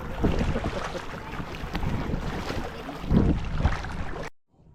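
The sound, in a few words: boat moving on water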